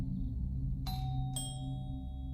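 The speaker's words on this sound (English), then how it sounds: "The killer rang the doorbell" Two bright chime tones, like a doorbell ding-dong, sound over a steady low background hum, the second note following about half a second after the first.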